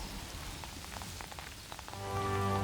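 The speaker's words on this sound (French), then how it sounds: "malgré la pluie qui ne veut pas s'arrêter" Steady rain falls outdoors during a long cross-country walk, a constant close hiss with scattered drop patters, and it swells louder toward the end.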